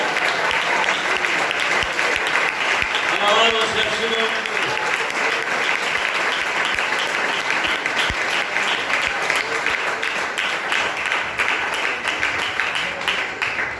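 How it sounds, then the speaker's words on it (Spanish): A church congregation applauds loudly and steadily throughout, dense clapping filling the room while a voice calls out praise over it. "Alguien que aplauda al Señor con todo su alma y corazón."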